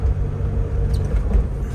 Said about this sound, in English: We're in fourth, running about 30 miles an hour.